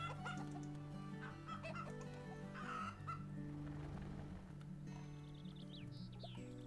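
Chickens cluck repeatedly in the farming game Farm Manager 2018, clear short calls rising over continuous background music, with a few higher squawks toward the end.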